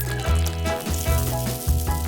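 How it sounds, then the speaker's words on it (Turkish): Egg- and flour-coated chicken frying in a pan gives a steady, close sizzle with brief louder surges, heard alone without talk. "Yumurtalardan ve undan kaplama yapıp tavaya koyacağım."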